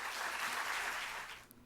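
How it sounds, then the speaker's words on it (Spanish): Enthusiastic audience applause fills an auditorium at a book launch event, a dense steady clapping that holds for over a second and then fades out quickly. "Un fuerte aplauso."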